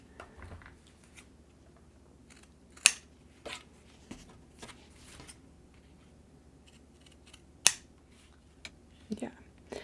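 Scissors trimming the edges of card paper for a stamped and foiled autumn card, several sparse crisp snips and clicks close up, separated by quiet handling rustle.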